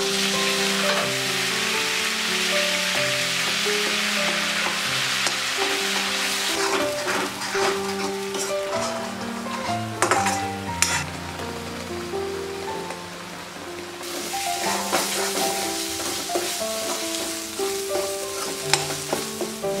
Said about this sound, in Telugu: అదే బాణలిలో 3 స్పూన్ల నూనెను పోసి ముందుగా పేస్ట్ చేసుకున్న ఉల్లిపాయ ముద్దను వేసి వేయించుకోవాలి